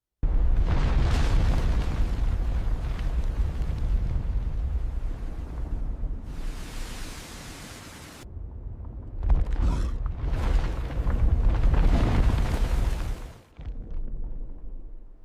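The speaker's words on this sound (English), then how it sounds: "the volcano began to rumble. The people evacuated. And then, it exploded." Massive volcanic eruption of Thera, a loud sustained explosive roar with deep rumbling that dips briefly around the midpoint, then surges again in a second blast before fading near the end.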